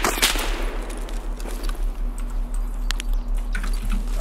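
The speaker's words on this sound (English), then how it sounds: "Where am I getting shot at, bro?" Rapid gunfire crackles through a video game raid, a sharp opening shot followed by scattered quieter bursts over a steady low hum, with faint player chatter.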